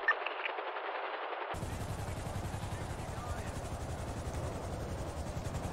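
In a video game, a helicopter hovers and lands overhead amid a heist getaway, its rotor chop a steady pulsing drone after a brief burst of gunfire at the start, with voices talking over it.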